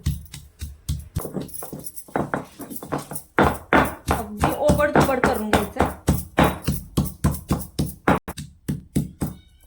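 Rhythmic pounding of garlic and ginger in a mortar: loud, close thuds repeating steadily, about three blows a second, with no talking.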